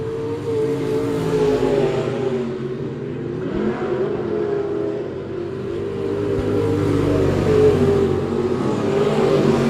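Race cars lapping Monett Motor Speedway during a feature race, with a steady, loud roar of engines holding and swelling as they run fast laps around the track.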